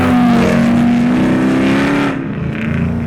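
A 2005-2009 Ford Mustang GT with a handling pack sweeps through a sharp left-hand turn, its engine droning loud and steady and the pitch holding then easing as it comes off the throttle near the end.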